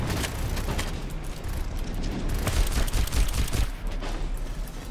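Rapid overlapping gunfire in the video game Overwatch, loud dense bursts and booms running continuously throughout with no clear pauses and no talk.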